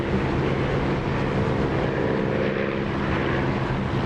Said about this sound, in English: I just love the sound of this engine with the canopy open.